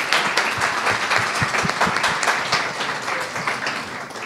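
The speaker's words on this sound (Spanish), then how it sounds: "un aplauso muy grande para nuestros autores." Sustained applause from an audience at a book fair author presentation, a dense, steady wash of many hands clapping without talk over it.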